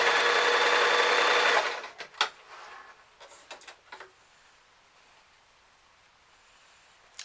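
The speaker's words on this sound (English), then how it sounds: "I'm just going to run that through the sewing machine." A sewing machine stitches a fabric bag in a loud, fast whirring run of under two seconds, then stops; a few soft taps and handling sounds follow in near quiet.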